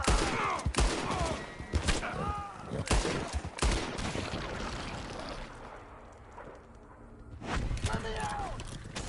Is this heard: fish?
no